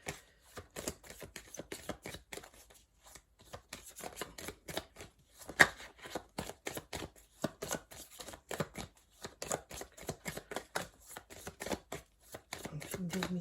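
Tarot cards are shuffled by hand in quick, riffling bursts of soft slaps and flutters, close but quiet, repeating through the whole stretch with brief gaps.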